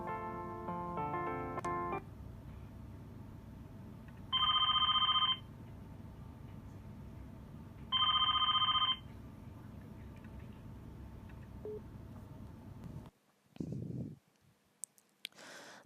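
A Wildix phone ringtone sounds in two short electronic ringing bursts a few seconds apart over a steady low hum, followed by a couple of faint clicks.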